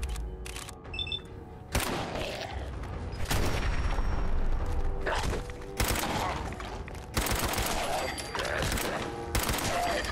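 Rapid gunfire from a gun in Fallout 4, several loud sustained bursts of fast shots separated by short pauses, with a player's voice talking between them.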